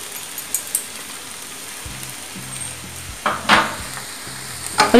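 Sabudana khichdi with roasted peanuts being gently stirred in a pan, with soft crackling sizzle and a few scraping strokes of the spoon that get louder toward the end.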